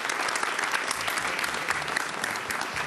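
An audience at a pasodoble dance contest applauds the first couple, steady, full clapping that fills the whole stretch without a break.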